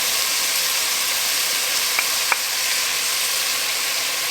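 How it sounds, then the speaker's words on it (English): Onion and ground beef fry in a pan with a close, even sizzle and hiss throughout, broken by a couple of brief clicks partway through. "I'm going to go ahead and add in my onion."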